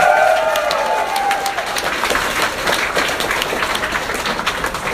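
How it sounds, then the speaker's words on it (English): Live audience at a touring comedy-style stage show in Richmond, Virginia, breaking into sustained applause with scattered cheers, dense clapping filling the hall at steady loudness for the whole stretch. "Give him another round of applause, please."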